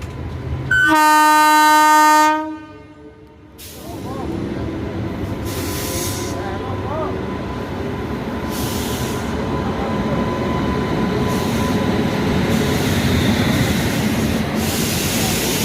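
A loud, sustained train horn blares, then a train hauled by a WP7 locomotive of Howrah shed rolls past with a continuous heavy rumble and rattle that builds slightly toward the end.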